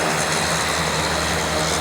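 A float plane engine drones steadily at Brooks Camp, Alaska, a constant broadband roar with a low propeller hum, loud and unbroken throughout with no talking.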